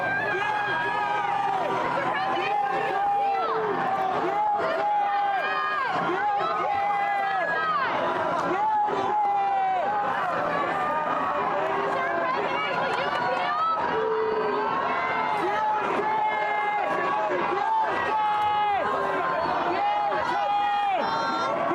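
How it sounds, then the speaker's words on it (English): Outdoor crowds cheering and chanting as former President Trump walks to his residence, a loud, continuous wall of many voices with rising shouts and whistles throughout. "you can hear crowds"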